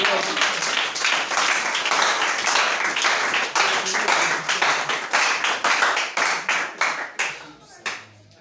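Church congregation applauding loudly and steadily during a sermon, dense clapping that breaks into a few fading bursts near the end.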